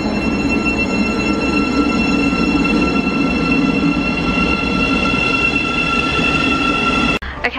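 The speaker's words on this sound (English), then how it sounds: "so we're at the station and we couldn't get on that train" A train at a railway station rumbles steadily with high squealing wheel tones and a broad rail-car roar, loud and continuous, cutting off abruptly near the end.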